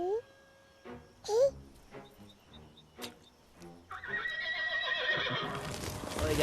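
Horses in an animated dragon film whinny loudly twice in high, wavering cries, with hoof clip-clop and other clatter between them, then a dense, noisy rush of sound takes over toward the end.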